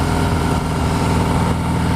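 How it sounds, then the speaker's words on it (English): A Harley-Davidson motorcycle with a 110 engine fitted to an 883 frame runs close and loud, a low, steady throbbing rumble at idle for the whole two seconds with no voices. "110 engine on an 883 frame. It's the fastest motorcycle that Harley's making right now."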